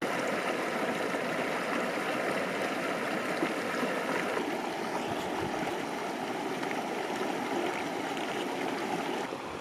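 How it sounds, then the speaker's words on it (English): Water rushes and gurgles steadily in a flowing creek in Rocky Mountain National Park, a constant close wash of sound with no voices. "Got a flowing stream behind me."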